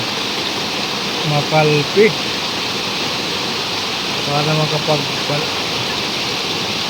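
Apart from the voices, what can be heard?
flowing river water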